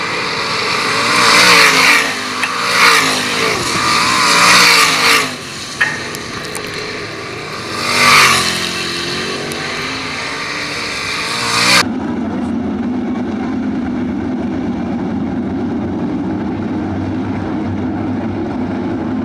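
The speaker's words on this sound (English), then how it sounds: "Third and final heat race on the Fremont Fence and Guardrail 305 Sprints goes green." Winged 305 sprint cars race at Attica Raceway Park during a heat race, engines roaring and surging loudly as they pass near, followed by a steadier, more distant rumble of the field.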